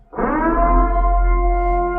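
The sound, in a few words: purge siren sound effect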